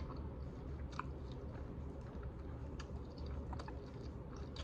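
Close, steady chewing and crunching of a garlic butter baked lobster tail, soft repeated bites and mouth sounds with small clicks, heard alone without talk.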